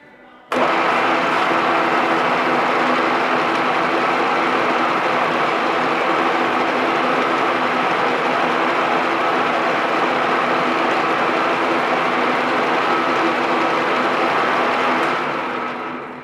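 Workshop lathe spinning a workpiece held in a collet, a loud steady motor hum and whir that starts abruptly and runs evenly, then fades at the end.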